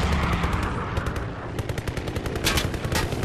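Rapid, sustained bursts from a flak gun turret in a Call of Duty WW2 dogfight mode, loud and dense with repeated shots layered over heavy rumbling.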